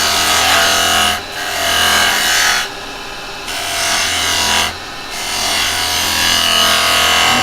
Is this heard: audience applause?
no